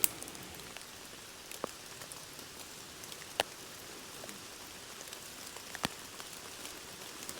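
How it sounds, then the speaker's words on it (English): Steady rain patters on a taut tent roof overhead in a forest, a soft constant hiss broken by a few sharper, louder drops landing close by. "And as you can hear, the rain"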